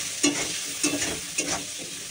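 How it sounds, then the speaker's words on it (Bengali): Turmeric and salt are stirred into hot oil in a wok, giving a steady broadband sizzle with three distinct scraping stir strokes spaced about half a second apart, close and fairly loud. "কড়াইতে তেলেই হলুদ দিয়ে দিয়েছি"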